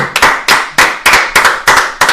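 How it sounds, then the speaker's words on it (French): Steady hand claps, about nine sharp slaps in an even rhythm, loud and close with no talking, given as mock applause during a live stream. "C'est bien, on l'applaudit."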